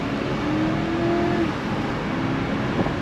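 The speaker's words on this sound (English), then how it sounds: "it gets up and goes for a big old freaking V8." An Infiniti Q45 with a big V8 pulling hard under acceleration, a steady, loud engine drone with a faint rising tone, heard from inside the car with no talking.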